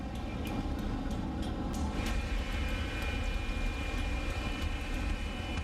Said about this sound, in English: They taxi slowly towards runway 5 left